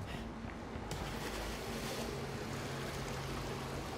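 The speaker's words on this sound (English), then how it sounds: "There's waves in here." Ocean waves wash inside a structure in the video game Still Wakes the Deep, a constant broad rushing roar with no clear breaks, heard alone.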